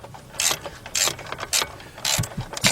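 A ratchet wrench loosens a bolt on a 2005-2009 Audi A4 Quattro engine during rear timing chain work, giving four close, bursty rounds of rapid clicking with short pauses between them.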